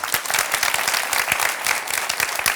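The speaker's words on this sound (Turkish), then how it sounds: "Bir alkış istiyorum ben." A live audience at a talk breaks into brisk, dense applause, many hands clapping loudly and close, sustained throughout.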